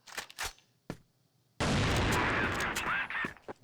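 Pistol shots and other gunfire crack in an esports shooter match, a few sharp isolated reports followed by a sustained loud burst of noise with more shots layered on top.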